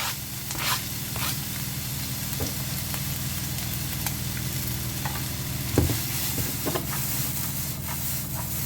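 Steady, continuous sizzling of onions frying in a pan, with occasional crackles and pops and the scrape of stirring throughout.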